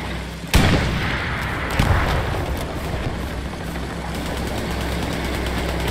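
A heavy tank in a video game fires a loud, close boom, then a second heavier thump a moment later, over a constant rumbling engine drone that carries to the end.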